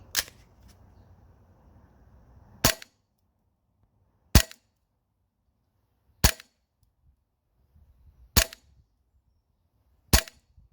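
TTI TP22 airsoft pistol firing 0.25 g BBs on green gas, six crisp, sharp pops spaced about two seconds apart, loud and close against near silence.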